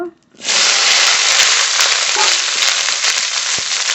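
Okra sizzles hard as it hits hot oil with radhuni and cumin seeds, a loud, sudden burst of frying that starts after a brief pause and holds steady and close throughout.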